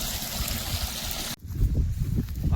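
Irrigation water runs through a maize field in a village, a steady close trickle and gurgle that cuts out abruptly and returns as a lower, uneven flow.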